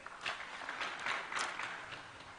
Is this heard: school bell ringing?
no